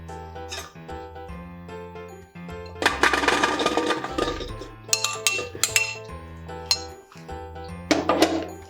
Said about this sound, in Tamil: இப்போ இதை வந்து நம்ம வேற ஒரு பாத்திரத்துக்கு மாற்றிக்கலாம்.